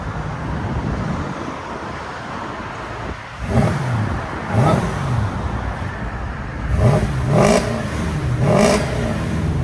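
A 2008 Mercedes S550 5.5L V8 idles with a steady rumble, then revs up in several sharp bursts, rising and falling, loud and close with a deep exhaust note.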